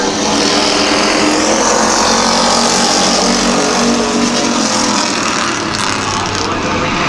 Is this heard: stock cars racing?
yes